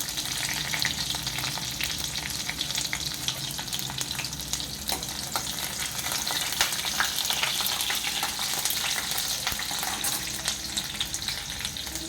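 Roughly crushed garlic sizzling in hot oil with cumin seeds while cooking spicy Maharashtrian brinjal curry, a steady close crackling hiss with scattered pops and occasional stirring scrapes.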